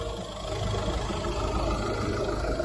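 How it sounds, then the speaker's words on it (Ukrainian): A 2010 Skoda Octavia 1.6 diesel engine idles with a steady, low rumble, an even, unchanging drone throughout, close and moderately loud, with no voices. "Двигун працює ідеально, ніяких посторонніх шумів"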